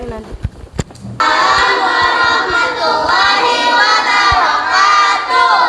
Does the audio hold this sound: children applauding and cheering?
yes